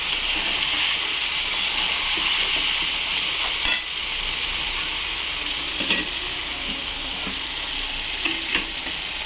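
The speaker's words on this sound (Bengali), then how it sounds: "তো আমি এই পর্যায়ে এবার একটু গরম জল দিয়ে দেবো" Fried masala for a katla fish curry sizzling steadily and loudly in a pan as hot water goes in, with occasional stirring clicks and scrapes over the constant hiss, and no talking.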